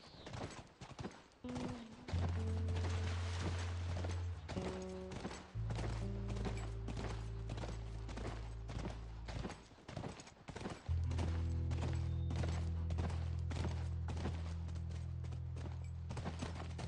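A horse gallops in The Last of Us video game on PS3, with rapid rhythmic hoof clip-clops over a steady low musical drone, the beats briefly pausing and resuming.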